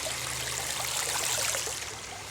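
Water from a garden pond's return line trickles steadily into a pool below, a continuous close, bright splashing with a faint low pump hum underneath.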